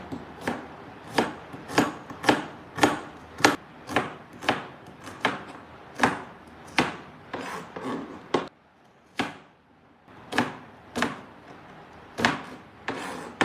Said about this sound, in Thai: เราก็หั่น หอมหอมก่อนนะคะ